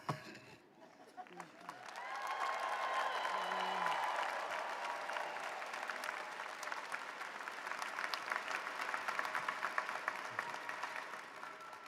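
A graduation ceremony audience applauds and cheers for doctoral and postgraduate graduates, a sustained wash of clapping with scattered whoops that swells after a moment and continues steadily, heard from a distance.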